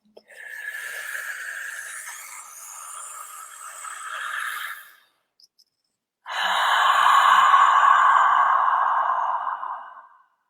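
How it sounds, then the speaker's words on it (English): Deep breathing during a voice exercise: a long audible inhale, a brief pause, then a louder, sustained breathy exhale, close and clear with no talking. "Okay, so we're going to take a deep breath."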